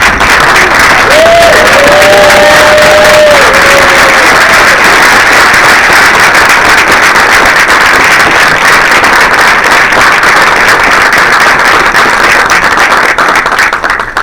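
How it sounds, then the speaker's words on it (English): A standing audience of a Congressional Black Caucus Foundation event applauds and cheers for active duty, retired and reservist service members, loud sustained clapping with brief whoops and sung tones near the start. "Would you give the men and women, active duty, retired, reservists, a rousing applause by standing for them"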